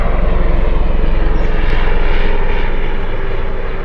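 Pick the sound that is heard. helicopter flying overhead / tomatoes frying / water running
helicopter flying overhead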